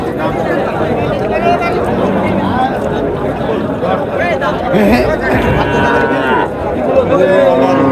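A crossbred cow moos at a busy rural cattle market in Naogaon, its low calls mixing with close people talking and a murmuring crowd.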